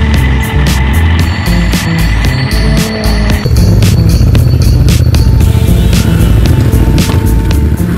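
A motorbike rides a country highway between Queensland and New South Wales, a loud steady engine drone with wind rush and a gear change partway through, continuous and close.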